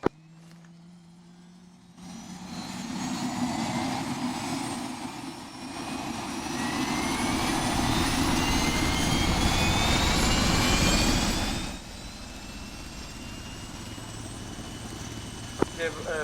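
A helicopter turbine winds up and settles into a steady running roar with rising whine tones, loud and close, before easing slightly near the end; no clear speech over it.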